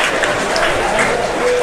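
Stadium crowd at a Fédérale 1 rugby match between USRP and ASRC, with Romans and Chalon supporters clapping in a continuous loud wash of applause.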